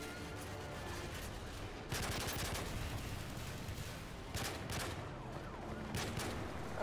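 Bursts of rapid gunfire from a gun in Call of Duty Modern Warfare 3 crackle in loud clusters against continuous game background noise.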